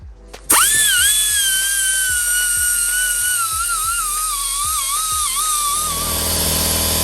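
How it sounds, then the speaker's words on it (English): A Milwaukee Hole Shooter drill starts abruptly and runs loud and close, its high whine wavering in pitch as it cuts car trunk sheet metal, with periodic grinding bursts and no voices. "I'm using this Milwaukee hole shooter."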